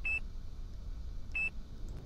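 A satellite in the space game Kerbal Space Program emits short, clean electronic beeps, two of them about a second apart over a low hum, with no talk.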